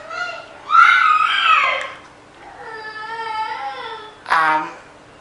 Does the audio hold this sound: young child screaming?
yes